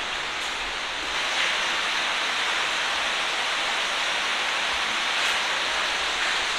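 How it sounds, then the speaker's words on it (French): Steady broadband rush of water from a cascade beside an abandoned villa, a constant roar holding level from start to finish with no pauses. "Ouais, il y a une cascade, ouais."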